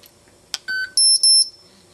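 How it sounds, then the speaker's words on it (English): An electronic dog training collar gives a short click, then a series of sharp, high-pitched beeps, one brief and two longer in close succession, clear and close in an otherwise quiet setting. "You will get the beeps, the vibrate, but no shock."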